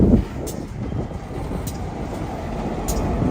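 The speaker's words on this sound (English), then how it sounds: "That is a really cool train engine though." A train engine rolls past along Leestown Road in Lexington, Kentucky, giving a steady broad rumble throughout with a few faint higher clanks.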